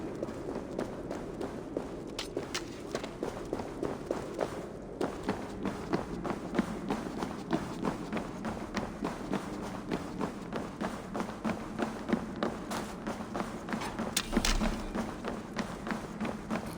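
Running footsteps approaching in the Assassin's Creed Valhalla video game, a rapid, steady run of thuds and taps that carries on throughout over low ambient rumble.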